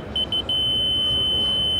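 A laser receiver gives a high electronic beep in three quick short pulses, then holds as one steady continuous tone over a low background rumble.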